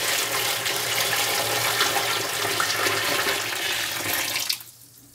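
Boiling water pours steadily into a UGR tray heating container in a loud, continuous rushing splash for about four and a half seconds, then cuts off abruptly into quiet.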